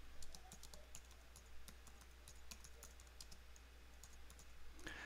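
Steady typing on a computer keyboard while a rule name is entered in security log software, with quick light key clicks in an uneven rhythm, quiet and close, no voices.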